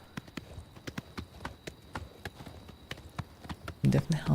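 Horse hooves galloping steadily at speed in Oblivion Remastered, a rhythmic clip-clop repeating across the whole stretch, close and clear, with a louder burst of other game sound near the end.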